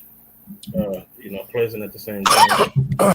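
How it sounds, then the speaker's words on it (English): A man's cough or sneeze bursts out abruptly near the end, following a stretch of close conversational speech, with a second short burst just after it. "I don't know if that was a sneeze, a cough, or a combination"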